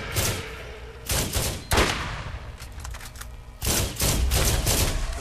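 Gunfire in the video game Borderlands, a fight with skags: loud bursts of shots in clusters, with brief gaps between rapid volleys, and no talking.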